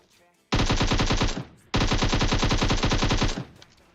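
Automatic gunfire from a weapon in the mobile battle-royale game PUBG Mobile, in two loud, rapid, evenly paced bursts separated by a short pause.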